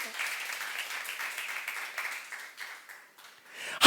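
A church youth congregation claps steadily during a sermon in a dense wash of applause that gradually thins out, then swells briefly at the very end.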